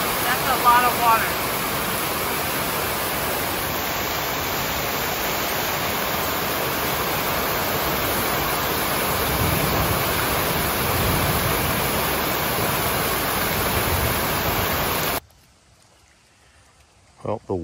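Muddy floodwater pours through a collapsed pond spillway after heavy overnight rain, a loud, constant roaring rush close by that drops away abruptly near the end.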